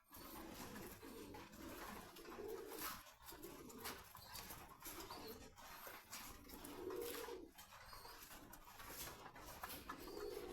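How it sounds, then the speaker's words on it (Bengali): Many pigeons at a pigeon farm coo in soft, repeated throaty calls over a constant background of birds, with occasional wing flaps and no talking. "অনেক সুন্দর সুন্দর কবুতর।"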